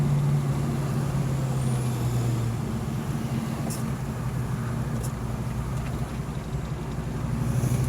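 A 1991 Ford Mustang LX 5.0 cruises in second gear over a run of road bumps, its steady low engine drone rumbling close from inside the car, with a few faint knocks from the suspension.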